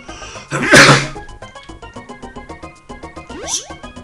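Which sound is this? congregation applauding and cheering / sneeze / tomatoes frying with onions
sneeze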